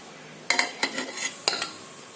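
Plates and cutlery clink and clatter sharply during dishwashing, a few distinct metallic knocks and scrapes in quick succession, close and clear against a quiet background.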